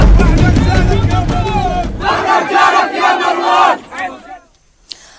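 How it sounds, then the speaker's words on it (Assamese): A Gaza crowd roars and shouts in celebration at ceasefire news, loud massed voices and excited yelling that build and then break off into a brief quieter stretch. "গাজার জনতাই এনেদরে আনন্দ উল্লাস"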